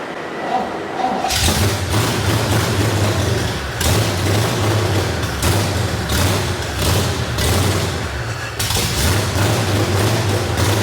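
A car engine idles after its idle air mixture has been leaned out, running with a rough, uneven rhythm and a pulsing low rumble, with sharp breaks as the noise surges and dips.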